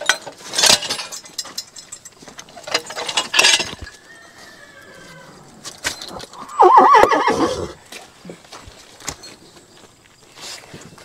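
Draft horses driven toward a barn on a training day: loud whinnies and neighs ring out several times between scattered hoof clops and rattling harness or gear noises, with brief quiet gaps.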